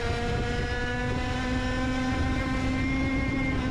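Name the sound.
racing kart engine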